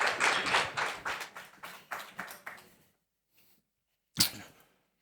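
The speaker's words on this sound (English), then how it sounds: "So please give them a round of applause as we get our next conversation underway." Applause from a small audience welcoming a speaker on stage at a POLITICO Speakeasy event, loud close claps fading over about three seconds, then a pause and one last isolated burst.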